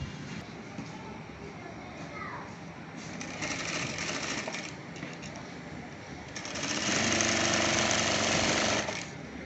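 Sewing machine stitching a gents kameez, running in bursts of steady mechanical whirring, loudest near the end, with tailoring noise around it.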